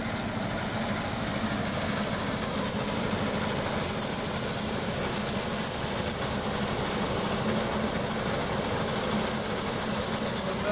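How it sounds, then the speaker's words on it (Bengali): An engine-driven Chinese-made paddy threshing machine runs in a rice field in Birbhum, West Bengal, as workers thresh harvested paddy by hand, giving a loud, steady mechanical roar and rattle that stays constant throughout, with no talk. "এখন আমরা দেখি হাতে করে চায়না মেশিনের সাহায্যে ধান ঝরানো"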